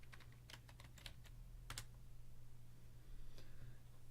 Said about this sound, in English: And then I type SPX.